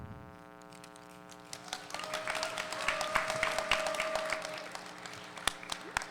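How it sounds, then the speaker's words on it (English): An audience at a grade 11/12 spoken word competition breaks into applause that builds from a quiet start into dense, sustained clapping with a few louder individual claps, over a lingering tonal hum. "Clap it up now."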